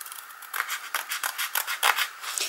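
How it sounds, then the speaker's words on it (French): Scissors snip through excess canvas in a crafting project, a steady run of short crisp cuts close up, with faint rubbing between strokes and no voices. "Et je vais découper le surplus."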